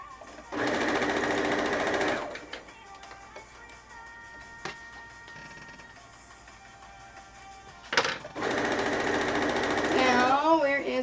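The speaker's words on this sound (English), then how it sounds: "I want to sew these two pieces together the correct way" A sewing machine stitches two quilt pieces together, whirring in a steady burst, then pausing before a second, longer run, close and clear over a quiet background.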